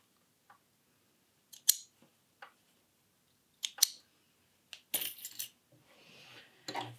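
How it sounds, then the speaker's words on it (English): Sewing scissors snip threads in a handful of separate crisp metallic clicks, close and spaced by quiet pauses, ending with brief fabric rustling. "Lift your needle and snip your threads."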